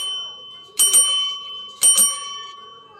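Two bright rings of a small bicycle-style bell, about a second apart, each followed by a lingering metallic ring, heard alone against a quiet background.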